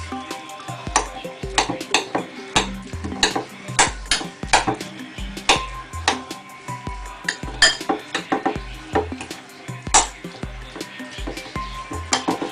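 Spoon stirring bruschetta topping with basil in a bowl, with repeated close clinks and scrapes against the bowl in a steady, irregular rhythm and no talking.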